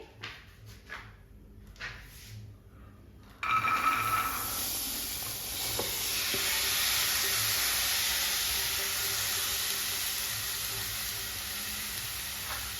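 Kashmiri red chili powder roasts in a pan while being stirred, a steady loud sizzle and hiss that begins abruptly after a few quieter clinks and continues throughout.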